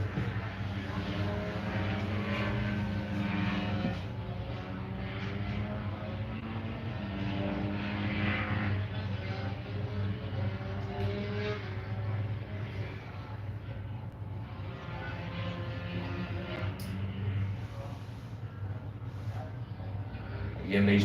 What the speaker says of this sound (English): You can hear the lovely buzz of them two strokes.